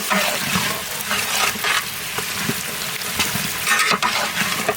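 Onions tipped into hot oil in a home kitchen set up a loud, steady frying sizzle with scraping stir strokes and faint splashy bursts, close and continuous with no talk.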